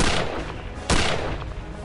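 Gunshots ring out in the video game Return to Castle Wolfenstein: a loud, blasting report already sounding at the start, then a second sharp shot about a second in, each trailing off into echoing decay.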